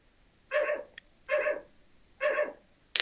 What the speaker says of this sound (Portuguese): Agora eu tô até ouvindo a Pula latindo aqui.